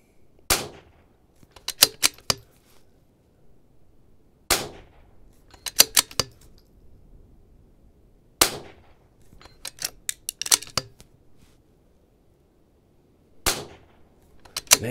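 Sharp rifle shots from a Vudoo Gun Works V-22 on an outdoor range at 200 yards, fired singly with pauses of a few seconds, each crack followed by brief clicks of the bolt being worked.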